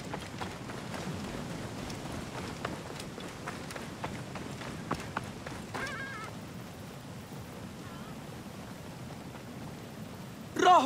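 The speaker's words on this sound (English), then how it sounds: "They left horses over here." Horses gallop across desert ground in Assassin's Creed Origins, a continuous run of rapid hoof thuds at moderate distance that eases off midway, with scattered game effects and a brief louder burst at the end.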